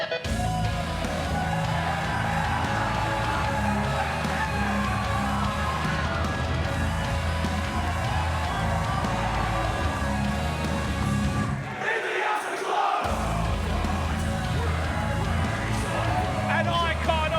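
Wrestling crowd at an NJPW Tamashii event in Sydney, Australia, cheering and chanting for Robbie Eagles in a sustained roar with a brief drop near the end, under commentators talking.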